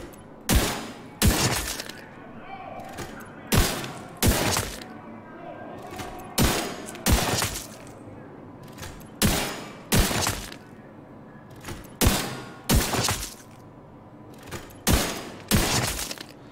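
A high-damage sniper rifle in The Division 2 fires a long series of loud, sharp shots, mostly in pairs, with short gaps between them and glassy impact cracks following.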